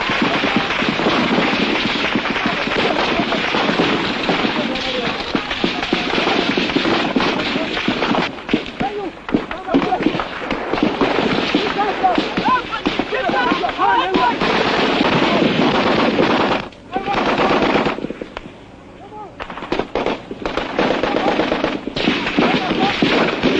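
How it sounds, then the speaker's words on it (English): Bursts of machine-gun and rifle fire from Biafran troops in the Biafran civil war crackle continuously at mid distance, with dense rapid volleys, brief lulls and a narrating voice layered over the shooting. "the Biafran troops fire blindly at enemy positions they can scarcely see"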